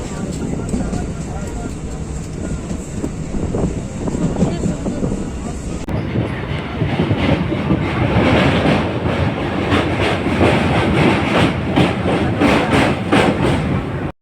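Inside a crowded passenger train compartment on the way to Tarakeswar, wheels rumble and clack steadily as the ride grows louder midway, with people talking over the noise.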